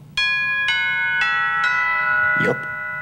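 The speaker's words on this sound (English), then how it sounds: "Was that the doorbell?" A doorbell chimes several times in a ringing, evenly spaced sequence, followed by a brief voice.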